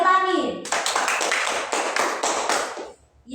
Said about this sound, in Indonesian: Oke, tepuk tangan untuk Gerlani